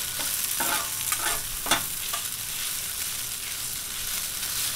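Strips of pepper steak fry in oil on a Blackstone griddle, a continuous loud sizzle and hiss filling the scene with a few brief scraping stirs near the start, no voices.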